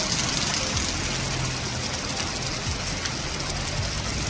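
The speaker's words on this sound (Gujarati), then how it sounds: "વરસાદનો નજારો છે." Steady, dense hiss of rain falling, loud and continuous, with a faint low engine-like hum underneath.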